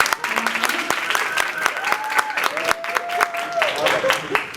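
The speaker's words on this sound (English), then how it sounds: "please stick around so we can applaud them" A theater audience applauds the drama club cast at a school performance, steady clapping with some crowd noise and a few tonal voices or whistles running through it.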